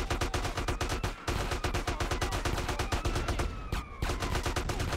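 Rapid, dense gunfire crackles almost nonstop during a citywide riot in GTA San Andreas Definitive Edition, bursts overlapping with only a couple of brief gaps.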